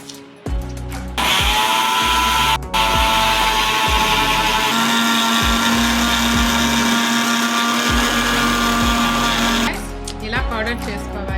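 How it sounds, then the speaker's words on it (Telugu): A mixer grinder powders sugar, starting with a few short pulses, then running in a loud, steady high-pitched whine before stopping with another short pulse. "ఇప్పుడు పంచదారని పౌడర్ చేసుకుందాం"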